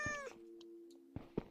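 A cat in the game Minecraft gives a short meow at the start, followed by faint game sounds and a few soft clicks, quiet and close.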